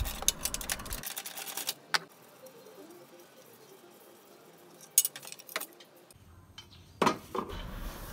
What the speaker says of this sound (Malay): longgar dan keluarkan kelima-lima skru yang memegang tapak bateri tu eh